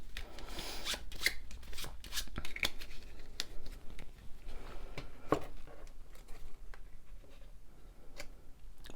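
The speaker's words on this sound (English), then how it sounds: "And I'll shuffle this patrol deck again." Rapid riffling and flicking of playing cards, a run of crisp papery clicks and bursts, close by with no talking.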